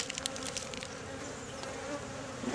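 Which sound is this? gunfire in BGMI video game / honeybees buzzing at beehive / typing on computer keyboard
honeybees buzzing at beehive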